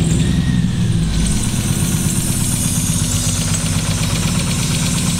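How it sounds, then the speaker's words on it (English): A Datsun roadster fitted with a Miata engine, running on only two cylinders, idles loudly and unevenly up close, a rough, lumpy, knocking throb that continues steadily throughout without talk. "the Datsun is a custom 2-cylinder Miata"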